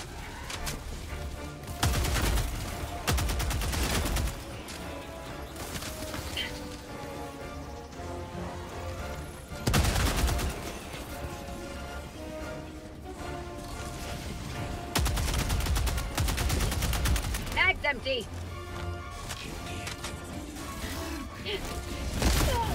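Rifle fire in Helldivers 2 during a test of the Democratic Detonation Warbond Adjudicator and Eruptor rifles, with loud bursts of shots recurring every few seconds over a busy background of game effects.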